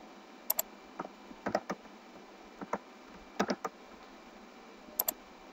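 Keys clicking on a computer keyboard in short bursts, a few quick strokes then pauses, close and fairly faint with no talk.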